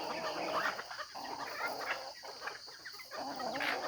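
Backyard chickens being fed corn on a farm, a flock clucking and chattering continuously with overlapping calls, fairly faint and distant against outdoor background noise.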